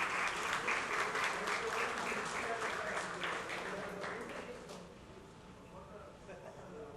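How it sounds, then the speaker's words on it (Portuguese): An audience at a solemn Brazilian ceremony honouring a beach soccer world champion and navy serviceman bursts into steady applause that fades out over several seconds, with a voice over it. "Salve de palmas para o Bruno Malias"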